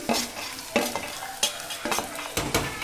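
Potato pieces frying in plenty of oil for sabudana, a steady sizzle broken by repeated scraping stir strokes of a spatula against the pan, close and fairly loud.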